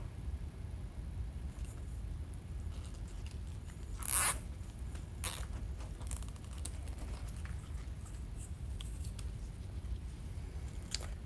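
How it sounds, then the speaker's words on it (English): A zip tie is ratcheted tight around a Christmas present box door hanger, heard as a brief sharp zipping rasp and a second shorter one over a low steady background hum, close to the microphone with no talking. "we're gonna zip tie this back together like this."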